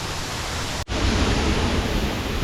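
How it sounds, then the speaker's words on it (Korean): Steady broadband rushing of a small waterfall at Huangguoshu Falls, Guizhou, China, loud and close, with a brief dropout partway through before the roar resumes. "조그만 거지만 바로 뒤에서 폭포가 흐릅니다."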